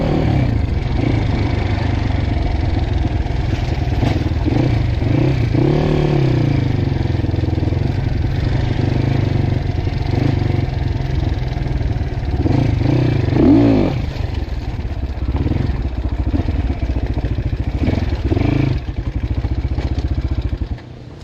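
A dirt bike on a hard enduro ride along a riverbed near Tika Bhairav drones loudly and continuously, its engine rising and falling with revs alongside clattering and scraping from the rough ground.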